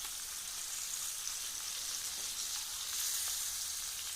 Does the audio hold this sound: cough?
no